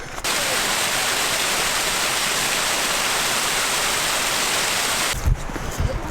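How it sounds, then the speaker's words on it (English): A river flowing near Nant Syddion Bothy in Wales gives a steady, loud broadband rush of water that continues throughout, with a few brief bumps near the end. "There's a river down there."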